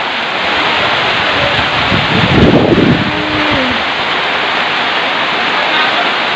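Steady rain pours down in a dense, even hiss, with a brief louder splash partway through and a faint tone sliding underneath.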